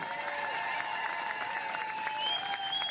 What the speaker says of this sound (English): Put your hands together for Zoe Backstead.